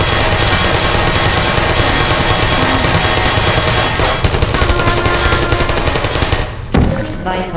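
Rapid automatic gunfire from turrets in the video game Portal, loud and continuous bursts of machine-gun fire with a mechanical hum underneath, briefly dipping near the end before resuming.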